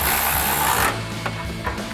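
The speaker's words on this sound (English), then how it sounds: "And I'm going to start up top with my 13 millimeter swivel socket." A ratchet with a 13 mm swivel socket tightens a brush guard bolt on a 2021-2025 Ford Bronco front bumper, giving a dense burst of fast clicks up close before slowing to a few separate clicks.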